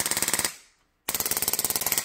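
A Polarstar electropneumatic nail gun fired on full auto, loud close bursts of rapid, evenly spaced shots, a short volley, a brief silent gap, then a second sustained string.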